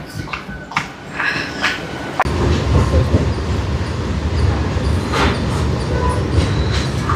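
A train rolls past nearby, a rising rumble with rhythmic wheel clatter and occasional metallic squeals, loud and continuous after a quieter start.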